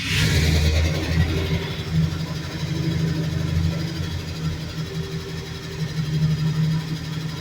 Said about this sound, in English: You can hear those lifters right now.